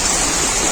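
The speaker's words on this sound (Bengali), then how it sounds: "এখন আমি জল দিয়ে দেবো পরিমাণ মতো।" A brief, close splash of water pours into a pan of cooking taro leaves, giving a short, steady rushing gush with no voices.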